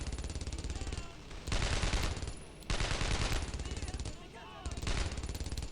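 In Brothers in Arms: Road to Hill 30, bursts of automatic gunfire rattle in three long volleys separated by short lulls. The shots are loud and close, and someone talks under the firing.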